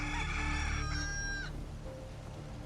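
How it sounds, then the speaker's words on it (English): Roosters crowing in the video game Sim Settlements 2, a Fallout 4 mod: a loud, near crow with layered harmonic calls that runs for about a second and a half, then fades into a quieter settlement ambience. "Oh, the roosters."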